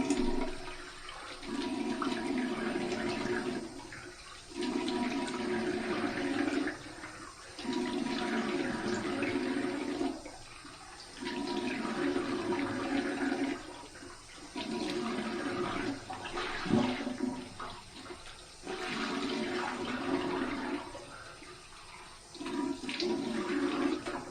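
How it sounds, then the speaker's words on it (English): Cold water runs from a tap for a head rinse after a shave, a steady close rushing flow that breaks into repeated short pauses and splashes as water is scooped and splashed. "Here's my cold water rinse."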